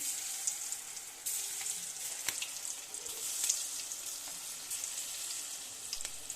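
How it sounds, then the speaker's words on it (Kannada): Chicken kebab pieces frying in hot oil in a pan, a steady bright sizzle throughout with small crackles and pops, close and fairly loud with no talking. "ಬಾಣಲೆಗೆ ಎಣ್ಣೆ ಹಾಕಿ ಕಾಯಿಸ್ಕೊಳ್ಳೋಣ. ನಂತರ ಚಿಕನ್ ಪೀಸ್ನ ಒಂದೊಂದು ಹಾಗೆ ಹಾಕಿ 2 ಮಿನಿಟ್ಸ್ ಬೇಯಿಸಿ"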